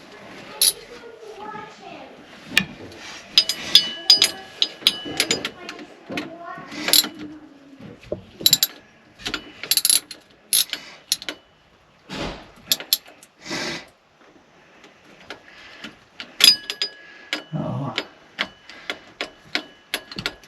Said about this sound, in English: now I got to try to get through here and get those bolts off